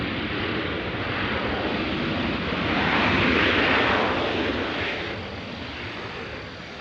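A Velo Airlines airliner approaching to land at Nashville, its engine noise rising to a broad swelling roar around the middle and then fading off, steady and moderately distant.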